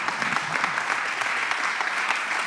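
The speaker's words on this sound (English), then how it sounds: "please give Adam a round of applause" A conference audience claps for an energy speaker, a steady wash of crowd applause that stays even and continuous from start to finish.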